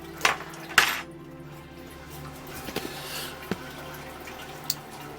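A grain basket lifted out of a Brew Monk brewing system lets wort drip back into the vessel, a quiet scatter of drips and light metallic clinks and knocks, a few sharper taps standing out against a faint background hum.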